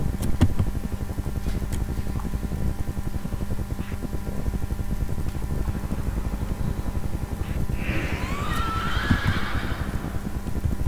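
A horse whinnies loudly in World of Warcraft, a rising and falling neigh near the end of the clip, heard over a steady bed of game music and ambient noise.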